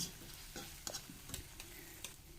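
Fried chicken being stirred in a pan: a few scraping stirs and clinks over a soft, low sizzle, close and fairly quiet with no voices.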